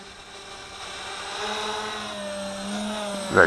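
WLToys V383 toy drone in flight, a steady whining motor buzz with strong harmonic tones holding near and even throughout, ending in a brief louder burst.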